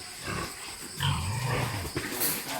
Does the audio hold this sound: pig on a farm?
yes